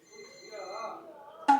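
A telephone rings indoors during a consultation scene in a Korean hospital drama, a short loud ring bursting in at the end after a stretch of quieter background sound.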